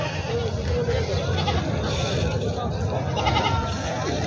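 Goats bleating amid the noisy bustle of the Vasmat goat market in Maharashtra, scattered animal calls mixed into dense crowd chatter and background noise throughout.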